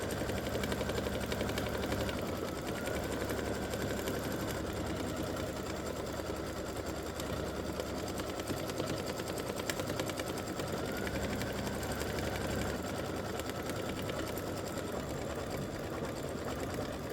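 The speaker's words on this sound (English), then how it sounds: "It's laying down some underlay right now, and it'll start stitching." An embroidery machine runs for a long stretch, laying down underlay stitches on a Christmas stocking with a fast, even, buzzing mechanical rattle that stays close and steady throughout.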